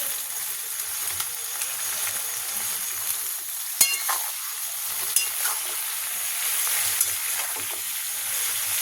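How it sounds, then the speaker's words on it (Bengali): Soya chunks with tomato and spices fry in a pan with a steady, loud hiss and sizzle, broken by occasional scraping clicks from stirring close by. "মশলা দিয়ে সয়াবিন দিয়ে কষাবো"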